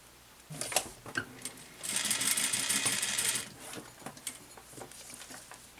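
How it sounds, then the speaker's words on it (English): A sewing machine stitches cotton ribbon onto the neck edge of a pullover blouse, starting with a few ticks before a steady burst of whirring stitching, then slowing to scattered clicks, close by and fairly quiet. "the neck edge, we're going to sew our cotton ribbon"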